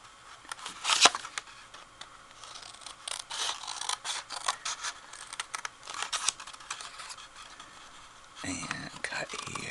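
Scissors snipping through paper card for a Mother's Day shadowbox, with a run of crisp, close cuts and rustling, and a short pause near the end.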